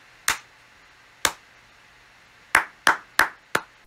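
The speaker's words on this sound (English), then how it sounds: "Claps." Six hand claps picked up by an inexpensive lav mic in a recording test: two spaced singles, then a quicker run of four, each crisp and close with a short tail over faint room hiss.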